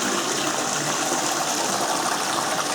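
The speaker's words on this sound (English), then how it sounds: "I'll go ahead and do the high flow flush too" A Kohler wall-hung toilet running its high flow flush, a loud, steady rush of water that holds evenly from start to finish, heard close with no talk.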